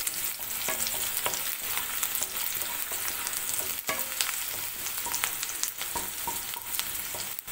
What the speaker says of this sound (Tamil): வெங்காயத்தை நல்லா வதக்கி